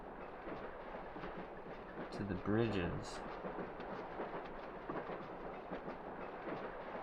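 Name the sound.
subway train ride in the video game The Longest Journey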